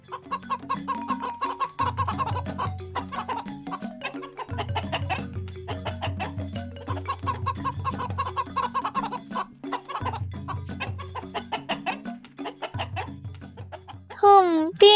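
Cartoon chickens cluck busily as an old woman feeds them in her yard, a dense run of clucks and squawks layered over rhythmic music, with a rising whistle-like cartoon sound effect at the very end.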